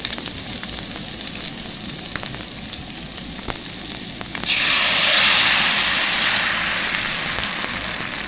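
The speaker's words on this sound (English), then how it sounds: "See if we can get these eggs in." Scrambled eggs hit hot butter in a pan at a campsite in southeast Ohio, and a loud, close, steady sizzle swells up partway through over a low background hum.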